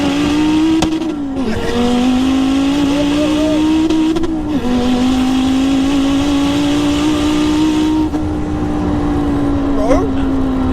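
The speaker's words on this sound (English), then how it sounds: "this car does not stop pulling" A high-powered modified car pulls hard in second gear under high boost, its loud engine note rising steadily with brief dips at gear or throttle changes, close and sustained for the whole stretch.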